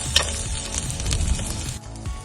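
Masala sizzling in a pan for a Kerala snake gourd and fish thoran, a continuous hiss of frying with scraping as it is stirred, close and steady.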